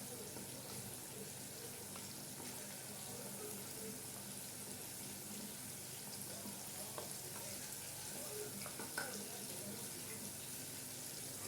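Onions fry beside fish in a pan for Alexandrian-style sayadeya rice, giving a faint, steady, hissing sizzle that runs continuously with no talk.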